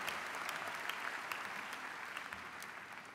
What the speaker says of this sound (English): Go ahead and clap for yourself.